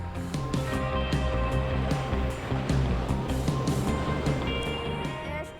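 Sea waves rolling in where surfers ride on boards, a dense continuous wash of surf and churning water, loud and close, with faint voices buried in the roar.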